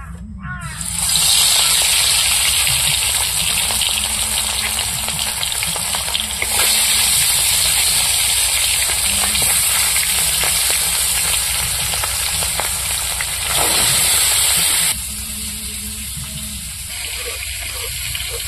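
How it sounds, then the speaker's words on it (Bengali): Fish heads frying in oil in a pan, a loud close steady sizzle and crackle that holds throughout with small shifts in intensity. "এবার মাথাগুলো ভেজে নেব।"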